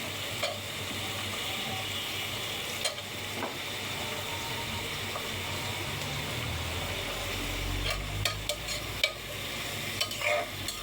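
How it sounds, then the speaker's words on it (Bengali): Onion, chili and garlic frying in oil in a pan for a chicken mash dish, a steady soft sizzle with occasional light stirring scrapes and clicks of a utensil, close and fairly quiet, with no talk. "পেঁয়াজটা হালকা ভেজে এখানে এক এক করে উপকরণগুলো আমি দিয়ে দিব।"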